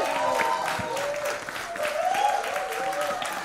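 An audience applauds at a trailer launch event for the film Silence 2, a steady wash of clapping over about three seconds, with voices murmuring underneath.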